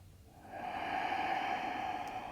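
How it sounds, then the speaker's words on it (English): A person breathes slowly and smoothly through the nose during a yoga practice. It is a single soft, airy breath that swells and then holds steady, heard close and quiet with no talk over it. "Smooth in and exhales through the nose."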